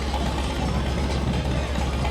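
A tractor engine idles at a Christmas parade, giving a steady low rumble with a dense broadband roar throughout, close and continuous.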